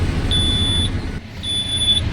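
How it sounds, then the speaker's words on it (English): Warning alarm on a Terberg Omnidel bin lift sounding in two long, steady high-pitched beeps separated by a short gap, loud over a constant low engine rumble from the refuse truck. "Here the alarm's going off."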